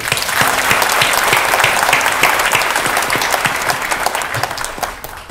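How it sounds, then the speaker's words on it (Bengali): A hall audience at a children's talent competition gives the winners loud, sustained applause, dense clapping that tapers slightly at the end. "তাদের জন্য জোরে একটা হাততালি দিয়ে"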